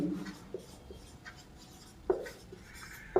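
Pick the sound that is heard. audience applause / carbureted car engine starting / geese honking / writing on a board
writing on a board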